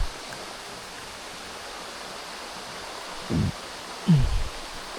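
Mountain water rushes steadily past a dam along a river, a constant broad hiss close by, with a couple of brief low thumps toward the end.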